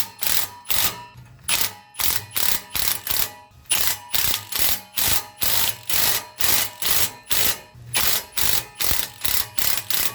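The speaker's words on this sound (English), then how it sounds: "you just kind of work the bolt back and forth and clean the threads out" A ratchet works a muffler bolt back and forth on a Nissan Versa, giving loud, close bursts of rapid clicking in a steady back-and-forth rhythm, about two dozen strokes with short pauses between them.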